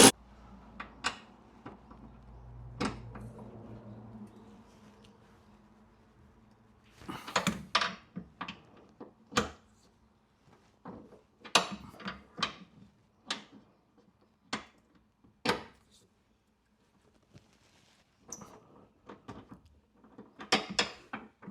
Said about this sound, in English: And we'll crank all these down.